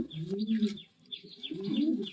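Belgian racing pigeons coo in low, rolling phrases, two bursts separated by a short pause, close and moderately loud, with light chirps above.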